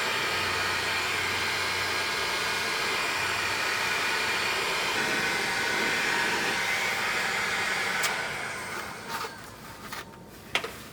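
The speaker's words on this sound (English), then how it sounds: "We used a heat gun to shrink the tubing and weather seal the butt connections." A heat gun blows a steady, loud airy hiss while shrinking tubing over butt connections on wiring during an Air Lift Load Lifter 5000 install on a 2014 Chevy Silverado 1500, then cuts off, leaving faint clicks and handling noises.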